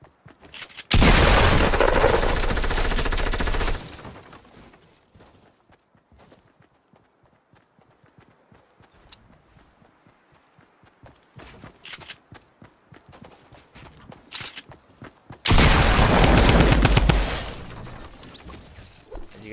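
SMG spam fire in a Fortnite Battle Royale fight, two loud rapid bursts of close gunfire a couple of seconds each, separated by quieter footsteps and scattered distant shots.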